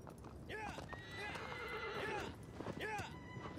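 A horse in the video game Shadow of the Colossus whinnies and gallops with quick hoofbeats, crossing sand, while a voice talks over it throughout.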